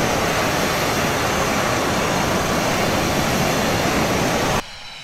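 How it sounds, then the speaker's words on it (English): Jet engines of a parked aircraft in the Prepar3D flight simulator roar loudly and evenly, then cut off abruptly near the end, leaving near silence. "Shut the engines down there."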